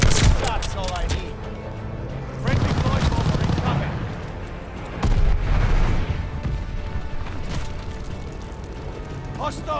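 A hostile strafe in a video game: rolling bursts of gunfire and explosions, loud and dense, come in waves over about ten seconds. A voice speaks over the battle noise.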